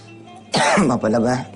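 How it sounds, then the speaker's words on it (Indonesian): A burst of harsh coughing up close, two quick rough bursts with a brief break between, following a quiet stretch. "ini lagi batuk-batuk"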